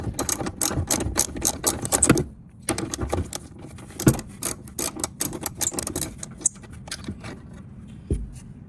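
Bolts on a mudflap bracket of a 1973 air-cooled Volkswagen Beetle being tightened with a ratchet: rapid, continuous clicking runs in several bursts with brief pauses, close up and with no voices.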